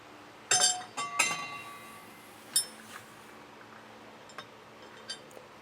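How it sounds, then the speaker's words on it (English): Carriage bolts go through the square holes of a bracket while Air Lift LoadLifter 7500 XL rear air helper springs are set up, giving sharp metallic clinks up close, then a few lighter scattered taps. "So I'm going to get our carriage bolts and put those through all of our square holes."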